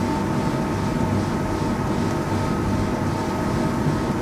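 An Axopar 37 boat powered by a Cox diesel outboard runs at speed against the wind and with the current, giving a steady, loud engine drone and hull rush with no letup.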